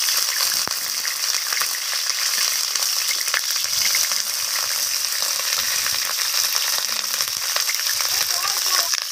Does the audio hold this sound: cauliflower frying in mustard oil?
yes